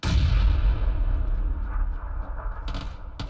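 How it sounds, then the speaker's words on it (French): A grenade blast in the battle royale shooter PUBG: one heavy, deep boom at the very start, decaying into a long rumbling tail, with a couple of faint sharp clicks near the end. "Ils ont balancé encore une grenade."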